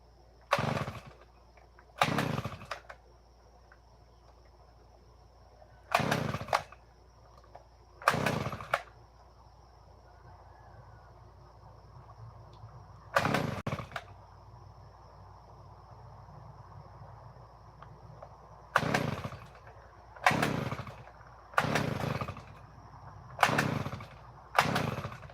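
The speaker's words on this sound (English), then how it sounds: "So grab the auger, turn it back on." A powered auger digs a post hole in dirt during shed site prep, its engine roaring in a dozen short, loud bursts separated by quieter gaps.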